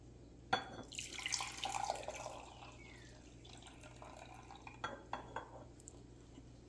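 Liquid is poured back into a container in a short splashing burst, then faint drips and light clinks of glass or dishes follow, with no talking.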